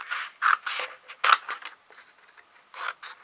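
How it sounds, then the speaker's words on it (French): Scissors snip through paper for decorating miniature gift boxes, a run of short crisp cuts in quick bursts with a pause, then one last snip, close and fairly quiet. "Alors, par contre, je vais couper parce que j'ai pas besoin de tout."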